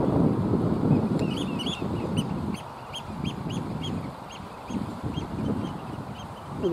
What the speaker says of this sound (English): There's something making an awful racket there. I think they're oyster catchers.